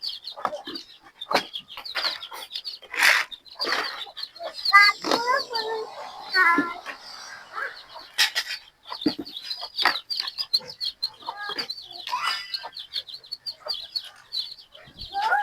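Gamecock chicks and chickens cluck and peep in their coops, a steady scatter of short calls from several birds close by, with a brief low voice heard faintly now and then.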